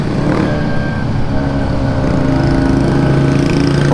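A Vespa scooter engine drones steadily and loudly while riding, a close, buzzing two-wheeler hum with no talking over it.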